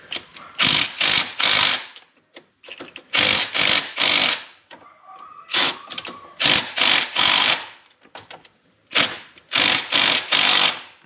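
A power tool tightens the crank pulley bolt on a BMW E90 320d LCI in loud, close bursts of harsh buzzing whirr. The bursts come in clustered pulses with short silent gaps between each group.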